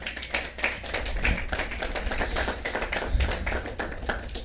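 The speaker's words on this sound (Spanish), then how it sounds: "Dale un aplauso al Rey esta mañana." A church congregation applauds steadily for several seconds after a call to clap for the King during a Mother's Day sermon, a dense, continuous patter of many hands filling the room.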